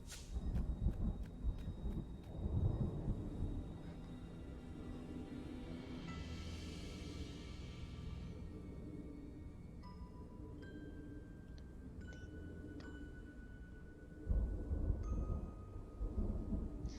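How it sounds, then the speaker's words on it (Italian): Distant thunderstorm in Stories: The Path of Destinies, with low rolling rumbles and steady rain, layered with soft game chimes and tones, faint and calm. "Questo suono di temporale in lontananza che rilassa."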